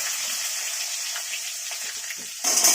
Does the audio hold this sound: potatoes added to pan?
yes